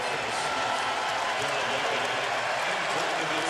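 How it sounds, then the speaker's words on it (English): A basketball arena crowd keeps up sustained applause and cheering during an NBA game between Dallas and Indiana, a dense, even roar of clapping throughout with voices blended in. "Greeted by enthusiastic applause again."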